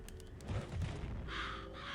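Crows caw in the video game Psychonauts, several harsh calls in quick succession over a steady game background, fairly loud and close with no talk.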